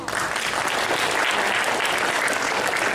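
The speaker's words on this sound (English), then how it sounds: "give her a round of applause" An audience at a conference claps steadily for a speaker, dense and even applause filling the room at constant loudness throughout, with no voices rising above it.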